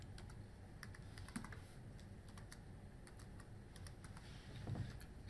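Faint, steady keyboard typing at a computer while a new name is entered, with scattered light key clicks over a quiet room hiss and no talk.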